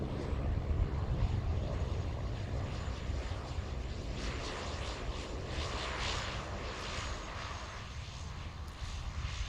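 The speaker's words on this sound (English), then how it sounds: "Oh, we got a Kenmore Air coming in here." A Kenmore Air Cessna Caravan comes in to land at Boeing Field, its turboprop drone steady and moderately loud, with a rougher low rumble early on that eases slightly as it continues.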